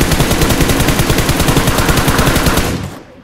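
Rapid automatic M4 rifle fire in a shooter video game, a loud, dense, evenly spaced burst of shots that runs for nearly three seconds and then cuts off abruptly.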